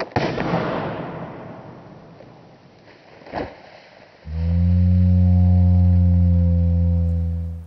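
A slingshot shot bursts a 2-liter plastic bottle with one loud, sharp bang that rings and fades, a fainter pop following, then a steady droning hum takes over.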